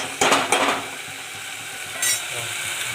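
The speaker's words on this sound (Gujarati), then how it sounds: "ચાલો થોડીક વાર હલાઈ નાખી ચટણીને" A spoon stirs chutney in a metal pot, scraping and clinking twice near the start and once more later over a constant frying sizzle.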